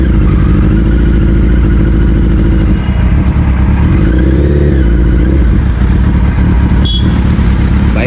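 A BS3 Suzuki Hayabusa superbike roars loudly and up close while being ridden on the road, a continuous heavy engine drone with shifting pitch and a brief click near the end.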